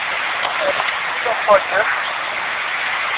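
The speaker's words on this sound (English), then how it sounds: "We got major rainstorm going on." Heavy rainstorm pours steadily over a Walmart parking area on Summerville Main Street, a dense loud hiss of falling rain throughout, with a person speaking briefly over it.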